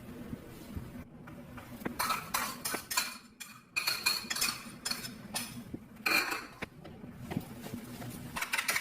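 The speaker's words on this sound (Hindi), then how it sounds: "ये देखें, अब हमने अंडा फेंट लिया।" An egg being whisked with a fork or spoon in a metal bowl for a beef chapli kabab mixture, rapid continuous clinking and scraping that runs steadily throughout, close and fairly loud, with brief uneven pauses.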